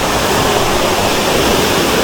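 A clear river flowing through a city campsite, a steady loud broadband rush of water close by with no voices and no breaks.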